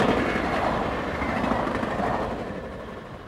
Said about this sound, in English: Soon after, the westbound Amtrak Southwest chief makes its appearance.